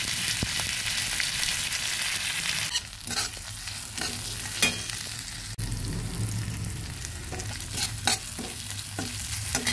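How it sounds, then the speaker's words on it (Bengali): Chopped tomatoes frying in a pan for a vegetarian bread breakfast, a steady close sizzle broken by scraping stirs and a few sharp clatters of the spatula, with no talking. "সুন্দরভাবে সব কিছু ভেজে নিচ্ছি।"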